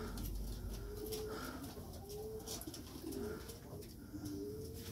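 Valenciennes pigeons coo back and forth in soft, repeated rolling calls, close by over a steady background hum.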